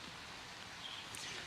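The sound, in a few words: rain falling in a city street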